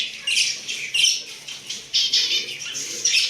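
Several quails burst out of an opened cage, their wings flapping in quick, loud bursts spaced about a second apart, with faint chirps between the flurries.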